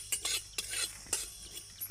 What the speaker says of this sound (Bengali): তেজপাতা আর 5 ফোড়নটাকে হালকা করে একটু ভেজে নেব।